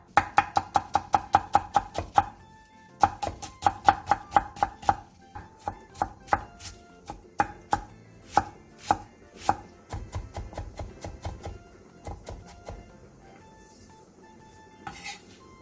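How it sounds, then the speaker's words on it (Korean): A knife rapidly chops two potatoes as finely as possible on a cutting board: quick, even strokes in fast runs, broken by short pauses, then slower, scattered cuts near the end. "감자 2개를 최대한 얇게 다져주세요"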